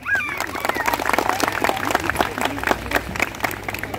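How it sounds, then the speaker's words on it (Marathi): Crowd clapping at an engagement ring ceremony, a dense, steady round of applause that carries on throughout at a fairly loud level with no talking over it. "सगळ्यांनी एकदा जोरदार टाळ्या वाजवायच्या आहेत"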